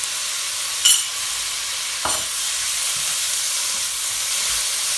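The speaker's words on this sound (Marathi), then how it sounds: "ही आलं लसूणची पेस्ट आहे ती मी त्याच्यात टाकते" Ginger garlic paste drops into hot oil in a pan with prawns and tomato, giving a sharp clatter and burst of sizzle, then a steady bright hiss of frying carrying on alone.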